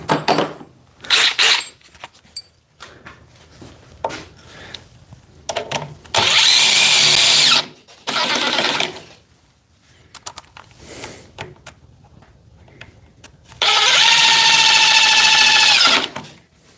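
A cordless Milwaukee oscillating multi-tool cuts into a lag bolt in loud, harsh buzzing bursts of a second or two, separated by quiet gaps with faint clicks and handling noise, the longest grinding bursts coming in the middle and near the end.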